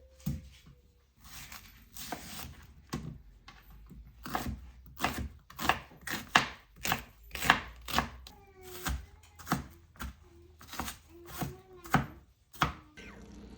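An onion being chopped with a knife on a cutting board, a run of close, sharp, irregular thuds that speed up in the middle, heard alone without talk.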